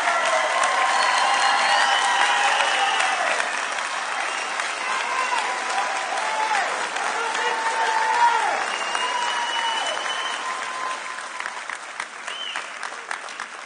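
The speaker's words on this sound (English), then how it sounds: "Let's give our graduates a final round of applause" A crowd at a 2021 summer commencement for the University of Houston-Victoria School of Arts & Sciences claps for graduates. The loud, sustained applause runs about fourteen seconds, with faint tonal sounds mixed in beneath it.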